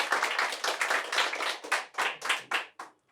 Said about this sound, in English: I would like you all to give her a round of applause before I begin.